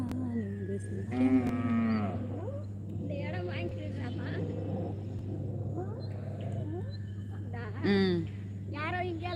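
Cattle mooing at a rural farm, several drawn-out lowing calls spread across the stretch, close and fairly loud over a steady low hum, with people talking in between.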